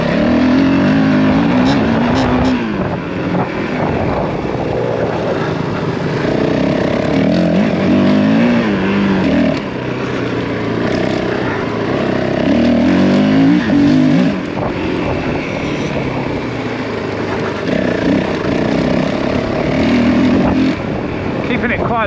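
Honda CRF450L enduro motorcycle ridden through a quarry, its engine droning and rising and falling in pitch as the rider holds low gears over bumpy ground; a rider talks over the steady, close engine noise.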